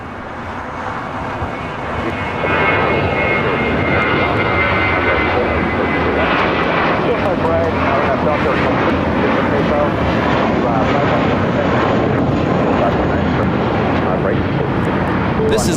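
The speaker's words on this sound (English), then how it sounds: "JetBlue A321 taking off." A JetBlue Airbus A321 jet takes off at LAX, its engines swelling quickly from a low rumble into a loud, steady, broadband roar that holds strong and close throughout.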